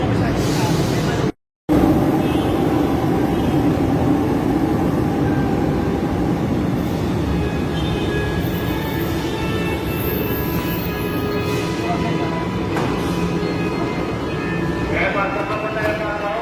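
Inside a moving Manila train on a rainy Sunday, a continuous loud rumble and rattle of the carriage runs with high whines and squeals, cut by one brief dropout near the start, while people talk over it.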